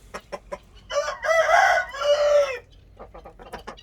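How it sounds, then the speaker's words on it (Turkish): A rooster crows once nearby, a loud drawn-out call, with clucking hens around it before and after. "horozumuz ötüyor"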